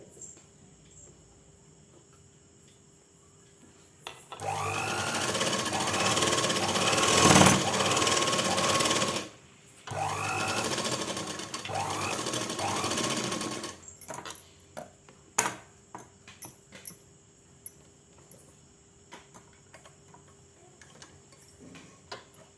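A sewing machine runs a line of stitching along a folded hem in two close, loud bursts of rapid chatter separated by a short pause, followed by scattered clicks and taps of handling the cloth.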